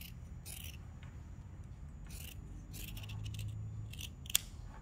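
Scissors snip through fabric while taking in a long frill skirt dress, a few short crisp cuts heard close and quiet in a still room, with one sharp click near the end.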